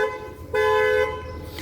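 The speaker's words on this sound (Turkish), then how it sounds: "orijinal alarm bir şekilde devreye girer aracımızda." The horn of a 2012 Ford Focus sounds in short bursts as the factory alarm triggers, a brief toot followed by a longer steady honk, close and loud, then a fainter electronic tone.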